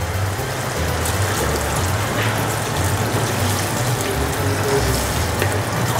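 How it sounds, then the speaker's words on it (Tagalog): Water poured into a pot of pork neck adobo with soy sauce, a steady broadband rushing splash that runs continuously and fairly loud for the whole stretch, with no talking over it. "lalagay ko na rin dito yung tubig"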